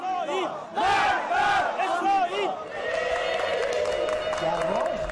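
A frenzied crowd in Tehran shouts and chants in rising, overlapping bursts, loud and close, before settling into a steady sustained roar of many voices.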